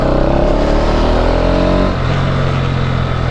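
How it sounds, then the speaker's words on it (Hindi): A modified Bajaj Pulsar NS200 motorcycle engine fires up and runs loud and close, a strong throbbing idle that drops slightly in pitch and settles after about two seconds. "अब चलो बाइक पे बैठते हैं, बाइक को स्टार्ट करते हैं"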